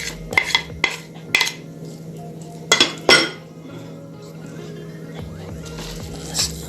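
Korean japchae ingredients tossed together in a bowl, giving scattered clinks and knocks of utensils against the dish in several short bursts with quieter stretches between, close and fairly sharp.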